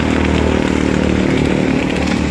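Fully automatic foaming machine running under strong pressure, giving a loud, steady buzzing drone like a small motor with a rough pulsing texture, continuous and alone.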